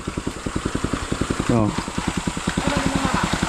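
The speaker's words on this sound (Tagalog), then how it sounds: "gigamitan nila og water pump para ibas ang tubig" A small engine-driven water pump runs to drain water from a creek, giving a steady, rapid chugging close by, with a brief voice over it.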